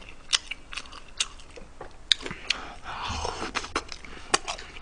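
Crisp, crunchy chewing of fried sweet and sour pork at a Korean meal, with sharp bites and crackly crunches repeating irregularly up close, alone with no talk.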